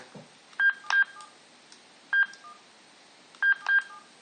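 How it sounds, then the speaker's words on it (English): A telephone is dialed with touch-tone DTMF keypad beeps, five short clear tones in uneven pairs and singles, close and distinct over a quiet background. "So, let's try again. Dial again."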